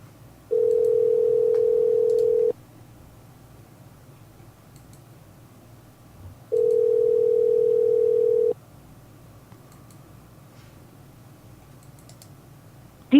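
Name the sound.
telephone call ringing out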